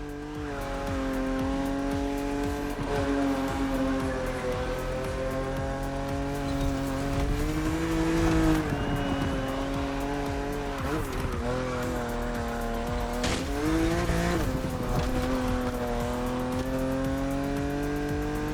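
A BMW Z4 coupe cabriolet in a racing video game revs loudly and continuously, its engine pitch climbing and dropping through gear changes, with tire squeal mixed in and no talking.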